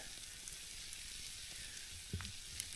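Toutons fry in a pan over an outdoor wood fire, giving a quiet steady sizzle with a few faint crackles and pops near the end, heard alone with no talking.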